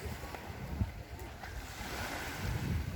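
Surf rolling onto a beach on a Philippine island shoreline, a continuous rushing wash of waves mixed with gusty wind noise on the microphone, fairly faint and steady with swells building toward the end.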